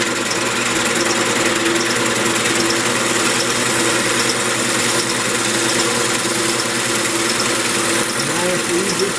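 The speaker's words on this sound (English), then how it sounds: "Nice, easy scraping cut." Wood lathe taking a smooth scraping cut on a mahogany candy dish, a steady continuous whirring hum with a scraping texture running throughout, fairly loud and unbroken.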